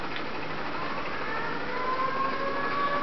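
A faint siren wails in a video game battle, its rising tone emerging over a steady wash of engine and ambient noise during the second half.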